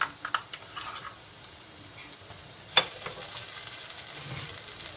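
Onions frying in a pan as spice paste goes in for a jackfruit curry: a low, steady sizzle with a few stirring scrapes and a sharper clatter near the middle, no voices.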